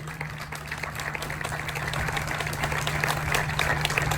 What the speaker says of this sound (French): il arrive et vous pouvez l'applaudir.